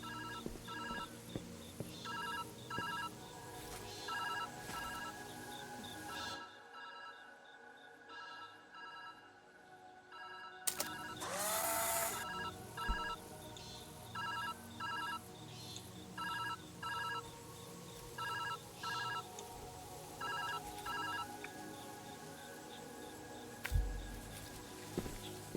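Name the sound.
telephone ringing in the video game Viewfinder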